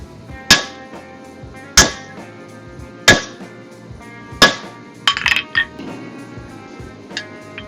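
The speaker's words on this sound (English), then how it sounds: "I reckon I'll use the big Zeeble hammer to try and get as much force on it as possible." A big hammer strikes a Fuller butcher tenon jig in sharp, ringing metallic blows, four evenly spaced about every 1.3 seconds, followed by a quicker cluster of lighter clinks and one last faint tap.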